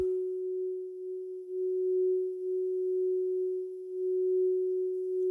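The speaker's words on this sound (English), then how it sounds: "It is a digital sine wave, the most basic form of sound." A single pure, steady digital sine wave tone hums at a low-mid pitch, unwavering and alone, with only slight swells in loudness.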